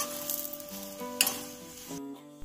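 Thepla, a fenugreek-leaf wheat and gram flour flatbread, sizzles steadily in oil on a hot pan, a continuous close frying hiss that shifts briefly as it is turned, with no voices.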